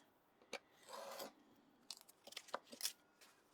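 Sandpaper being cut roughly to the shape of a wooden sanding block, heard as a short rasping tear followed by a burst of scraping, crinkling snips, close and fairly quiet with no talk.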